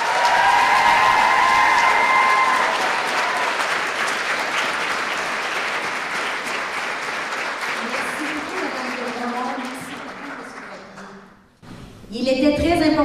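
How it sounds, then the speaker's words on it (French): Audience applause at a school ceremony for the organizing committee, a long dense round of clapping that stays strong and then thins out and stops before a voice resumes speaking. "j'aimerais, en terminant, que vous puissiez donner une bonne main d'applaudissement au comité organisateur"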